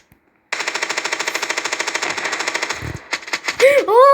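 A loud burst of rapid automatic gunfire in Standoff rattles steadily for a couple of seconds, followed by a few scattered shots and a brief voice.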